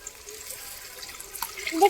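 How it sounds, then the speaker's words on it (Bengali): A small amount of water is poured into a spice masala in a pan, a brief soft liquid trickle and splash, close and faint, ending with a slightly louder burst. "এখন মশলাতে একটু জল দিয়ে দেবো"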